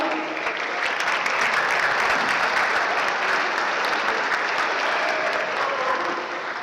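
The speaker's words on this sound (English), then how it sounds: "Let's give these contestants a round of applause" An audience at a high school prom fashion show applauds the contestants with loud, steady, continuous clapping that holds evenly from start to finish.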